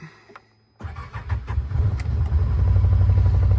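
A Can-Am Defender HD10 UTV, a work machine used for fence building, cranks and fires up after a brief quiet moment, its engine catching and settling into a loud, steady idle close by.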